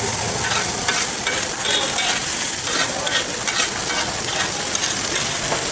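Tomatoes sautéing in a pan at a roadside hotel kitchen, a loud continuous sizzle and crackle with steady stirring and scraping throughout.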